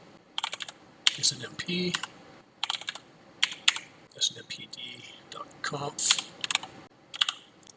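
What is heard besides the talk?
typing a command on a computer keyboard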